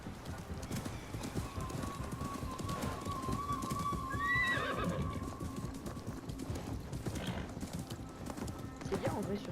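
A horse in Assassin's Creed Mirage gallops with steady, rapid hoofbeats and lets out a clear, loud neigh midway, as game sounds continue beneath.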